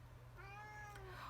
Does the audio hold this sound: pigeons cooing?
no